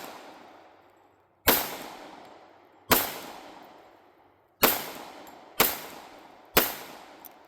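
Five sharp pistol shots from a Glock 21 Gen 5 and an SR1911 LW Commander, each a loud crack with a decaying tail, spaced irregularly about a second or more apart.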